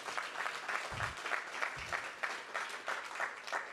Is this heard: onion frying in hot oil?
no